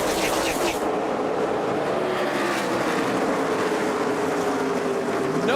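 NASCAR Cup Series race cars howl around Dover during the second race of a doubleheader weekend, a loud continuous engine roar with a rising pitch sweep as the pack passes, and no talk.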